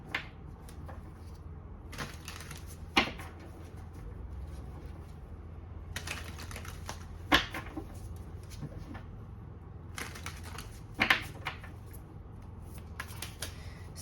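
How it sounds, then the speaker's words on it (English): Tarot cards being shuffled in short bursts of riffling and flicking, with quiet pauses between, close by in a calm room. "Let me just give these a good shuffle."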